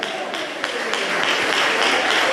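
A church congregation claps and cheers in a loud, dense, continuous burst of applause that fills the room and stays steady without fading.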